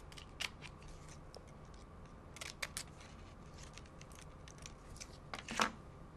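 Paper scissors snip a small paper flower off for card making, several faint, quiet cuts in short clusters with a slightly louder final snip.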